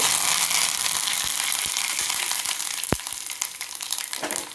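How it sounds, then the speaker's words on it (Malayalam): Mustard seeds, dried chillies and curry leaves crackle in hot oil in a home kitchen, a steady loud sizzle with scattered sharp pops and spitting bursts throughout. "കടുകിട്ട്, വറ്റൽമുളക് ഇട്ടു, കറിവേപ്പിലിട്ടു."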